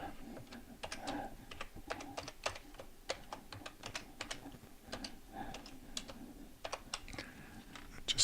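A password typed on a computer keyboard, quick irregular key clicks in short runs with brief pauses, close and fairly quiet, with no talking.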